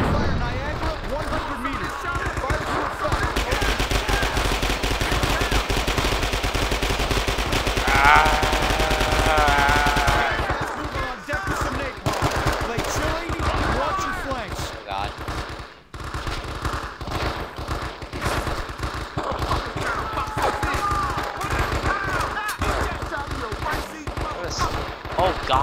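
Sustained automatic gunfire in the war game Men of Valor, dense rapid rattling bursts over a constant battle din for the full length, with shouted voices mixed in.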